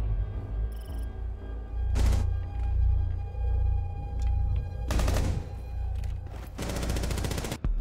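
Gunfire in Rainbow Six Siege: separate sharp shots and short automatic bursts crack out at uneven intervals over a low rumbling game background, with gaps of quiet between them.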